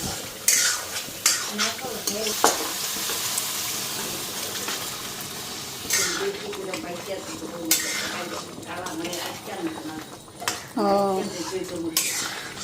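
Potatoes go into a cooking pot and get stirred, with repeated scraping and clinking of a spoon against the metal pot alongside a soft sizzle. Someone speaks between the stirring strokes.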